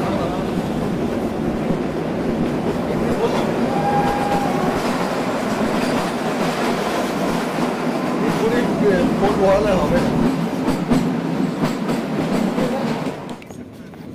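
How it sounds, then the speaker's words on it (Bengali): Shivalik Deluxe Express toy train climbing into the hills from Kalka toward Shimla, a steady rumbling rattle of wagons with clickety-clack and a brief wheel squeal, heard from inside the carriage. "ট্রেন এবার পাহাড়ে ওঠা শুরু করে দিয়েছে"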